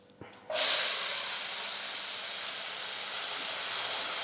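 Washed long beans for a Kerala payar thoran drop into a hot pan and set off a sudden loud sizzle that stays strong and steady to the end, with a brief clatter just before it.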